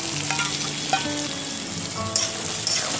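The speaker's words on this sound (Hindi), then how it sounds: "इसी के अंदर आप 2 बारीक कटे हुए प्याज डाल दीजिए।" Two finely chopped onions sizzle in hot oil in a pan with sesame seeds, fennel and green chili, a steady loud frying crackle with occasional stirring scrapes and no talking.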